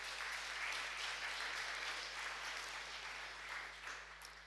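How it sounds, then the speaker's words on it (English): Applause from a conference audience at a NixCon 2019 talk, steady broadband clapping that holds for the full stretch without a break and eases off slightly near the end. "Big applause for him"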